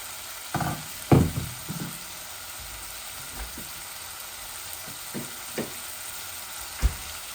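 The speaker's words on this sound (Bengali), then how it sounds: "আর একটু ভাজা ভাজা হয়ে যাক, তারপর আমি দিয়ে দিব, আলুগুলা ঢেলে দিব।" Pieces of chicken fry in a pan for a Bangladeshi chicken and potato bhuna, giving a faint, steady sizzle broken by a few scattered clacks of the spatula, with no talking.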